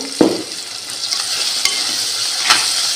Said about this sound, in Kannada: ಚೆನ್ನಾಗಿ ಫ್ರೈ ಮಾಡಿ.